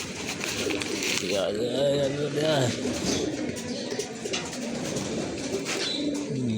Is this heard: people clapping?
no